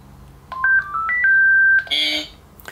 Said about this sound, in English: the voice prompt says Yi, which means one in Chinese